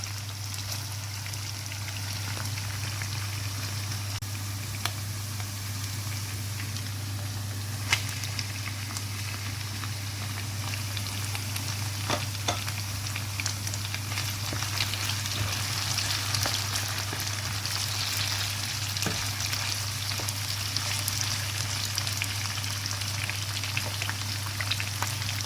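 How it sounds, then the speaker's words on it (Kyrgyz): Onions sizzling and crackling in a frying pan, a steady close hiss with faint pops throughout, over a constant low hum and with no talking. "Пиязыбыз да курулуп атат. Пиязды да биз кызартып куруп алышыбыз керек."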